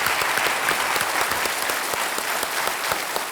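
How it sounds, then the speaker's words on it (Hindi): A studio audience at the Kaun Banega Crorepati quiz show applauds in a dense, continuous burst of clapping that stays close and even from start to finish. "तालियों के साथ उनका अभिनंदन।"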